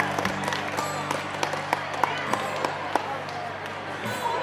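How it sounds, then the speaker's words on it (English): Audience at an anime convention expo applauds cosplay contestants: scattered clapping and crowd noise from a large hall, with distinct individual claps popping through and a hum of murmuring voices underneath. "Big round of applause for all of our contestants"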